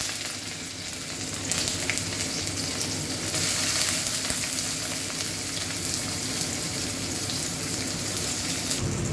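Sliced onion dropped into hot oil for a UP-style dish, a loud continuous sizzle that swells partway through and stays steady, with faint stirring underneath.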